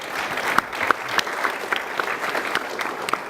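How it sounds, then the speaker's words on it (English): A panel audience gives a moderate round of clapping, with individual sharp claps audible over the steady patter, continuous throughout. "So a big round of applause."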